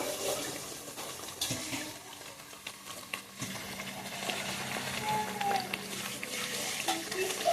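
Water pours and splashes steadily into a mixer jar, a continuous rushing gush with small clatters, close by and with no voices.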